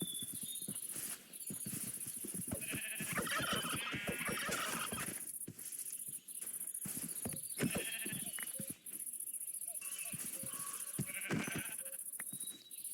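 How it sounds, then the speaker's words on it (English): Several sheep in Minecraft bleat repeatedly, overlapping one another, amid soft footsteps and clip-clop sounds; fairly close and busy, with no talking. "I finally found some sheep"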